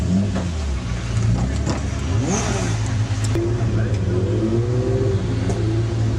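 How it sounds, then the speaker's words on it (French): Several race car engines at a 12-hour endurance race rev up and down loudly, their pitch sweeping higher as they accelerate over a constant mechanical roar. "Moteur pour tout le monde."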